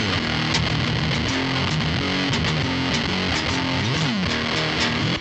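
An electric guitar through a distortion pedal set all the way up plays a gritty, saturated riff with sustained chords and quick note changes, loud and up close.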